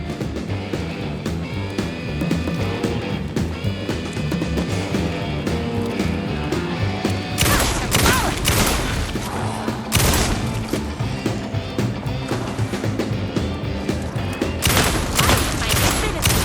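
Dense bursts of gunfire from the Alan Wake 2 video game, loud and close, with heavy rapid volleys that grow sharper and more intense in the second half over a continuous game soundtrack.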